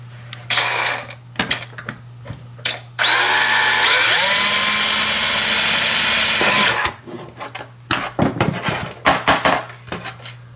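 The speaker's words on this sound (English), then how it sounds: "We're going to drill up real close to the lid part" A power drill with a 1/4 inch bit bores through PS4 controller plastic: rattling handling clicks, then a long loud steady whine as the motor runs, pitch dropping as the bit bites, followed by more clattering handling noise.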